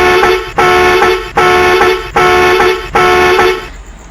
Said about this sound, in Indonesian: Oke, lanjut untuk klakson setir.